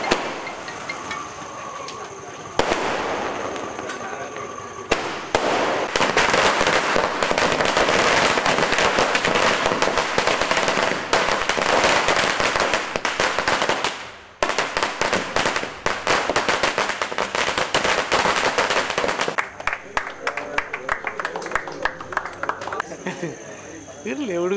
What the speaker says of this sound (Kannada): ಅಭಿನಂದಿಸಿ ಪಟಾಕಿ ಹಚ್ಚಿ ಸಂಭ್ರಮಿಸಿದರು